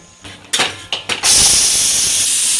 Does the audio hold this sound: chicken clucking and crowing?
no